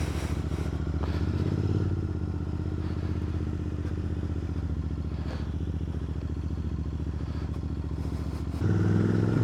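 A Royal Enfield Interceptor 650 motorcycle rides along back lanes, its parallel-twin engine thrumming steadily with wind rush and occasional clatter, close and loud throughout, briefly rising in pitch and volume near the end.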